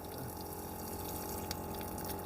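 Water runs from the tap of a caravan's water heater in a steady, faint splashing stream, with no talk over it.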